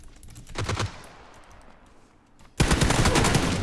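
Automatic gunfire in PUBG, a short rapid burst followed by a lull with faint distant shots, then a loud sustained volley of rapid fire close by.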